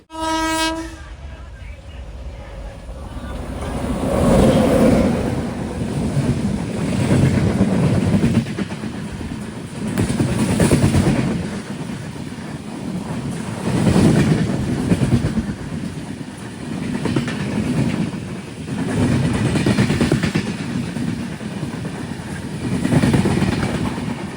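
The Mangala Lakshadweep Express, running from Hazrat Nizamuddin to Ernakulam, rolls steadily along the rails with a rhythmic clatter that swells and fades in regular pulses, loud and continuous, with a brief horn-like tone at the start.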